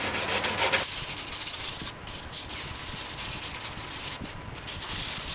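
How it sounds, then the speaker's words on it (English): Sandpaper of 220 grit scrubs through the paint on a BMW E30 engine bay panel, a close, continuous scratchy rasp of repeated strokes with no talking. "This is some 220 grit and it's going through the paint pretty nicely."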